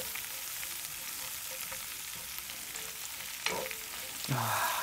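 Rouladen pieces with bacon, onions and garlic searing in a Dutch oven give a steady, moderate sizzle and crackle, with a few brief scraping stirs and a louder burst of frying near the end.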